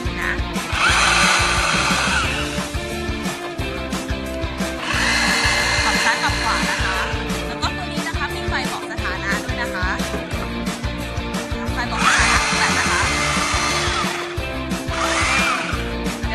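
An Onsen cordless three-mode rotary hammer drill runs in loud, harsh bursts of a few seconds each, stopping and restarting four times, close up with no talking.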